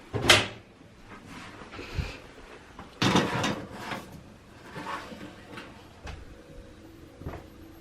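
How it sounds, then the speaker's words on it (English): A kitchen oven door opens during biscuit baking, with a sharp clack, then scattered thumps, creaks and knocks of handling over several seconds, fairly close in a quiet room. "Will you open the oven door for me, please?"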